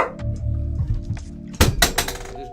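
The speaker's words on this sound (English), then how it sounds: "just dropped my chair on accident" A chair drops onto the floor with a loud clattering thunk and a few quick rattling impacts after a stretch of low rumbling background noise.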